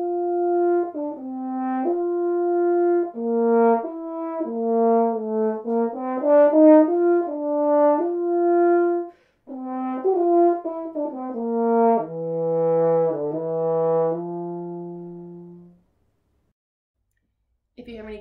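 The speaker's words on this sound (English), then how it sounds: "when I buzz my lips into the mouthpiece and the brass pipes of the French horn" A French horn plays a melodic line of sustained and quick notes, clear and close with no voices, then stops briefly and resumes with a low held tone before a short silence.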